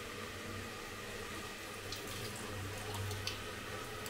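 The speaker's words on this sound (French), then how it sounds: "Il faut bien les rincer avec de l'eau avant." Running tap water rinsing lentils in a sink, a steady soft splashing flow close by for the whole clip, alone with no talk, during cooking in Jaipur, India.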